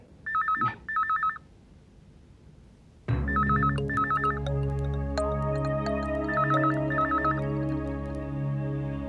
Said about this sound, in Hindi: अगर ये मित्तल का फोन होगा और उसने मेरी बात मान ली हो तो?